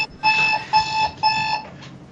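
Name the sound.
alarm clock ringing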